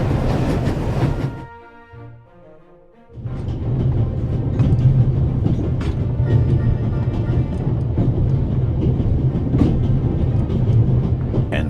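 Steady rumbling clatter of a moving train in a video game, loud and continuous with metallic rattles and clicks, briefly dropping to a quiet hum before resuming.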